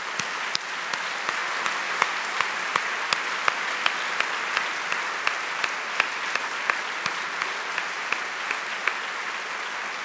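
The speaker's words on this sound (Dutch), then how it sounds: "Ik denk dat zij het warmste applaus van de dag verdiend hebben." A large audience at a university's academic-year opening ceremony applauds steadily for the full stretch, a dense, even wash of clapping with a few sharper individual claps standing out, no voices over it.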